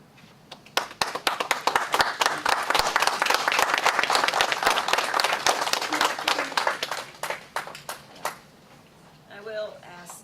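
A city council meeting audience bursts into dense, rapid clapping that swells and holds for several seconds, then thins out into scattered claps before a voice speaks at the end.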